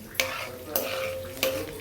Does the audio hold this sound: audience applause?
no